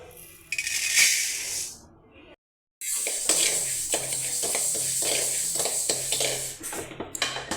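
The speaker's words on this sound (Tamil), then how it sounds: "அரிசி சேவக்காய் வறுத்தாச்சுங்க" Grains of rice dry-roasting and stirred in a pan give a close, continuous rattling, scraping sizzle with brief clinks of the utensil, pausing for a moment before carrying on steadily.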